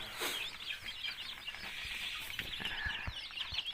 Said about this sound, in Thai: อันนี้นะฮะเป็นลูกไก่บ้านนะครับ ไก่พันธุ์พื้นเมืองที่เราเพาะขึ้นมาเองนะฮะ